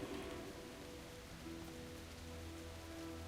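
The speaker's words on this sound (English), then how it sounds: "And it's raining during this funeral." Rain falling in World of Warcraft during an in-game funeral in the Vault of the Incarnates, a soft, steady patter and hiss of drops at low volume, unbroken and alone, with faint low tones beneath.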